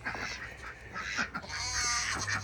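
Ducks quack repeatedly nearby in a farm pen, a series of short nasal calls overlapping one another at a moderate level with no talking.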